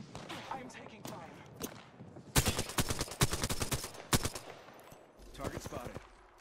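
Video game gunfire crackles in a match, rapid automatic bursts and single sharp shots in clustered volleys, loud and close, with a voice speaking between the bursts.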